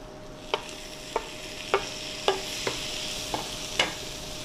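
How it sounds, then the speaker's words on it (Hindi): Chopped tomatoes are stirred and fried in a pan while cooking a Pahadi lingda fern curry, with about seven crisp spatula scrapes at a regular pace over a soft, constant sizzle. "अब मैं थोड़ा सा इनको भी भून लूँगा।"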